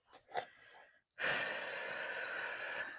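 A person takes a deep breath: a short sniff first, a brief pause, then one long, steady, airy exhale that lasts nearly two seconds, close and clear.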